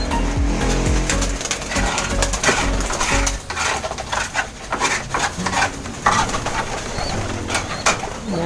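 Pigeons coo in a loft with chicks present: low, throaty cooing stands out for the first few seconds, then gives way to a busy mix of scraping and shuffling noises close by.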